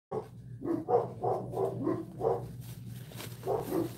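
Several dogs bark in a quick steady series indoors, a run of six or seven mid-pitched barks, a short pause, then two more, fairly close and with no talking over them.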